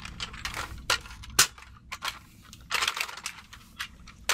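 An airsoft gun fitted with a Ceda and AKmods upgrade kit fires a rapid run of sharp, snappy shots with mechanical clacks, close and fairly loud, with no talking.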